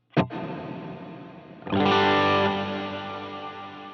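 Distorted electric guitar on a Dumble-style Line 6 Helix patch: a sharp pick attack, then a big ringing chord swelling in, with delay trails that waver and stutter as they slowly fade, heard alone.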